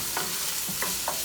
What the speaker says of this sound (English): Stir that up just to give it a nice initial toast before I add any liquid